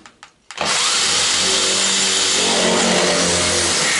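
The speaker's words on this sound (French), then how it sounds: "je leur perce tout de suite un trou de 6 à cet endroit-là" A power drill bores a 6 mm hole in a piece of metal while fitting parts into a Citroën Traction 11B: a few brief knocks, then a loud continuous whine at steady speed close by.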